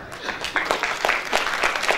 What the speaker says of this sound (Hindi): अपनी तालियों से हमारे कलाकारों का प्रोत्साहन करें